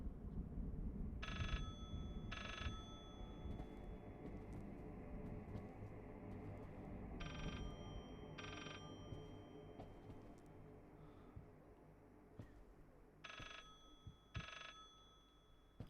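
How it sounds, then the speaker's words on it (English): Old-fashioned telephone bell ringing in the horror game Layers of Fear, three pairs of double rings at regular intervals over a low ambient drone, moderately faint and echoing. "I hear a phone ringing."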